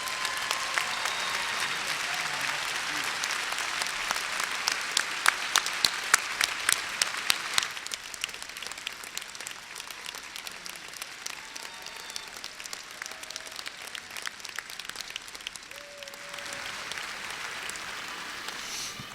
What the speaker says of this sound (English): please rise and accept our applause of thank you